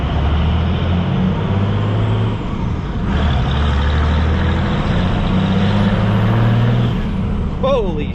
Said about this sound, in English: the boost picks up way better than the VGT did